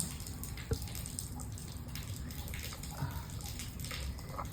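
Engine oil drains from the drain plug of a Vespa Primavera 150S in a faint steady trickle, with a couple of small metallic taps, close and quiet.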